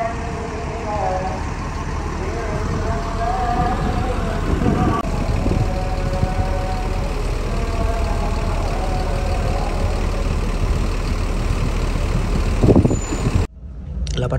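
Dusk at Pulau Gebang bus terminal: a steady rumble of idling bus and truck engines fills the air, with faint voices and a brief louder clatter near the end.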